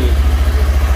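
An older-model Kawasaki Ninja 250 engine runs loud and close with a steady pulsing low throb, being revved slightly, with no voices.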